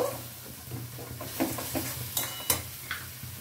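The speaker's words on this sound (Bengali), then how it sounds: "এই পেস্টটা আমি এর মধ্যে দিয়ে দিলাম। দিয়ে একটু নাড়াচাড়া করে নেব।" Paste of onion and garlic being stirred in a pan over a medium gas flame, soft scraping strokes and a few light clinks of a spoon over a faint sizzle and low hum, quiet and close.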